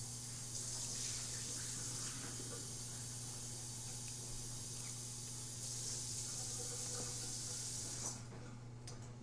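Tap water runs steadily into a sink indoors, a constant hissing splash over a low electrical hum, cutting off near the end with a small clunk.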